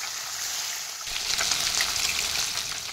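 Rohu fish pieces flipped in hot oil in a wok; a moderate sizzle swells into louder crackling and spattering after about a second and continues steadily.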